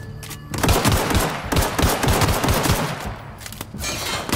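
Sustained, loud gunfire from The Outer Worlds, dense overlapping shots and rapid bursts with brief gaps, filling the whole stretch with little letup.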